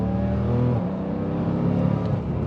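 A turbocharged 1000 hp BMW M3 engine drones and revs steadily up close, a rich harmonic growl rising and holding without speech over it.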